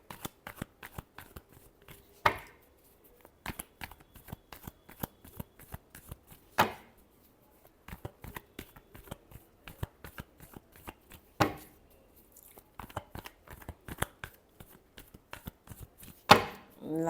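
Close, crisp riffling and tapping of a tarot deck being shuffled, in quick bursts of card flicks with a few louder slaps between them, and no voices.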